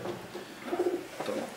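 A racing pigeon gives a few soft, low coos at close range in a quiet room, with faint background noise.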